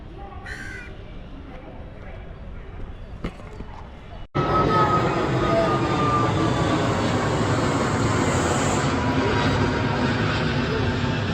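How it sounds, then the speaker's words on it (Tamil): Train at Guindy railway station platform in Chennai, its loud rumbling roar bursting in suddenly partway through and holding steady, with crows cawing faintly before it arrives. "ட்ரெயினுக்கு வெயிட் பண்ணிகிட்ருக்கோம் பிளாட்ஃபார்மில்."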